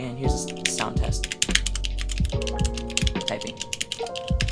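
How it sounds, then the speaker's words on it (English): Rapid typing on a Dierya DK63 60% mechanical keyboard with brown switches, dense close-up key clacks in an uneven stream with occasional heavier thocks, over a steady musical background. "Typing."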